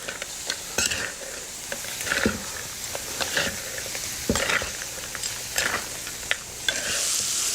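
Bread salad with fresh lemon juice being tossed in a bowl, a run of close scraping, rustling and clattering strokes with an irregular rhythm, moderately loud and with no voices.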